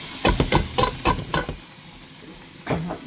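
A spoon stirs sugar into cape gooseberry jam in a pot, making a quick series of scraping, sloshing strokes close up. A pause follows, then two more strokes.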